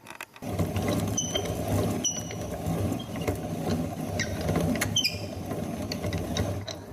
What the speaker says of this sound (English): now I'm going to put them through an old-fashioned grinder. And these are 2 millstones, and the flour will come out here as I grind it.